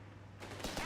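A faint, brief burst of MG42 and Vickers machine gun fire in Company of Heroes 3 swells up from near silence partway through.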